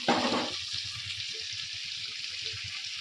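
Paneer frying in a pan gives a steady, close hiss of sizzling oil, with soft rhythmic scraping from stirring underneath and a brief louder splutter at the start.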